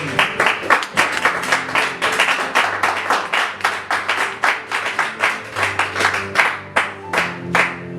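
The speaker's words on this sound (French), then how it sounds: "On acclame le Seigneur." A church congregation claps steadily and loudly, many hands together in a dense, continuous rhythmic applause with a brief sung or spoken tone running underneath.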